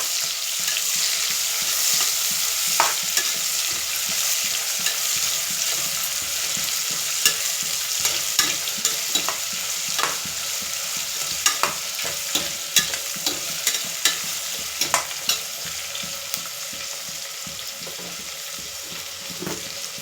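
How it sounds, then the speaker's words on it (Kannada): Chopped onions frying in a pan for vegetable pulao until golden brown, a steady close sizzle with frequent sharp clicks and scrapes of stirring throughout. "ಸ್ವಲ್ಪ ಗೋಲ್ಡನ್ ಬ್ರೌನ್ ಬರೋ ಗಂಟ ಫ್ರೈ ಮಾಡ್ಕೊತಾ ಇರಬೇಕು."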